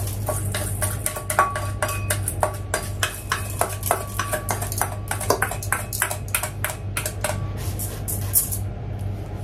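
Soaked rice pours into a rice cooker pot for Sri Lankan sand paste, a dense run of crisp clicks and rattles over a steady low hum, close and fairly loud, trailing off near the end.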